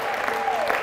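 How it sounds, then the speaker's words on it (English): Worshippers in a church clapping along, a brief continuous patter of many hands with a held musical tone underneath. "Let's clap to the Lord. Come on, really clap to the Lord."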